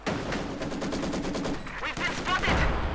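Ostwind flak tank in Company of Heroes 2 firing rapid automatic bursts, loud and dense, amid a busy game battlefield with other weapons and engine rumble.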